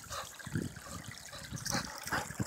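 A 60-pound pit bull wades and splashes through a river, with irregular bursts of sloshing and trickling water close by, fairly quiet and steady over a low background.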